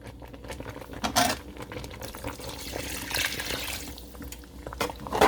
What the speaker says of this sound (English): now is the time to add a little more water